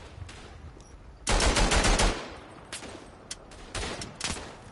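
Bursts of machine gun fire in the WW1 trench shooter Verdun: one loud sustained burst followed by shorter, fainter rattles and scattered distant shots.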